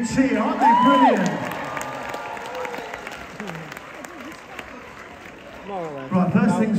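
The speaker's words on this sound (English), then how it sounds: "Everybody, please give them all a big cheer," An audience at a live holiday-camp show at Butlins Minehead cheers, claps and whoops loudly. The crowd noise runs throughout, with a host's voice speaking over it near the start and again at the end.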